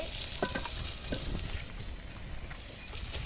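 Onions sautéing in oil in a pan with salt, a steady close sizzle and fry with occasional stirring scrapes, continuous throughout with no talk.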